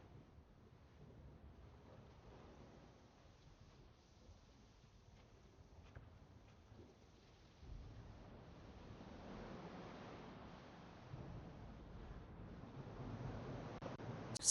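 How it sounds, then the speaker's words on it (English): Rough ocean surf near the San Francisco coastline rumbles faintly and at a distance, a broad wash that swells louder in the second half, mixed with wind buffeting the microphone. "See how rough the surf is over there."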